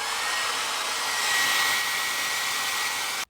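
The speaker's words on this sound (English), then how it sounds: "I'm going to go in with my blow dryer on low setting" A blow dryer runs on its low setting, drying glued hair edges: a steady, close airy whoosh lasting a few seconds before it cuts off abruptly.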